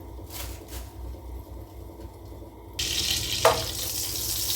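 Oil heating in a pot on the stove, a quiet hiss that jumps into a bright, steady sizzle partway through, with a small clatter near the end.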